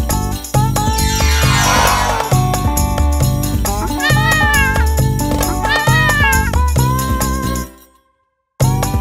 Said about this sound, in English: Look! It's a cat!